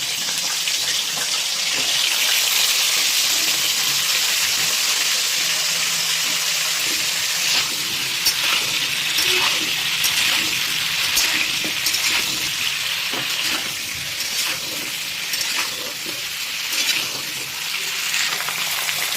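Cauliflower florets, a second batch, deep-frying in hot oil for a Bengali roast, giving a steady, dense crackling sizzle with scattered pops throughout, close and continuous, with no voices.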